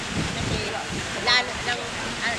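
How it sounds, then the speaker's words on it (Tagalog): Rushing water and surf roar steadily, with a louder wave surge crashing midway, while voices talk faintly underneath. "bigla kami hampasin ng malakas na alon"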